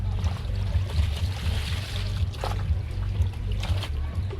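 Water trickles slowly into a bucket, a thin, steady stream that runs without a break for the whole stretch over a low, constant hum.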